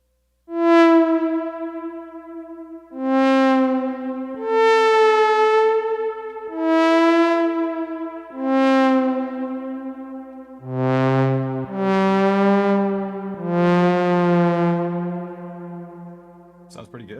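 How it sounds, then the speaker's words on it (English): A synthesizer plays a slow sequence of sustained, bright notes, each swelling and trailing off into a wash of heavy reverb. "Here we want to drench it in some reverb."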